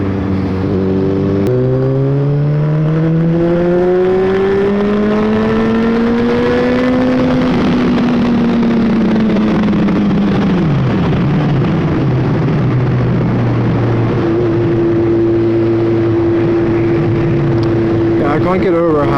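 A 2012 Honda CBR600F engine drones loudly while riding, rising steadily through the revs, dropping back on a shift, then holding an even pitch and climbing again, with wind noise throughout.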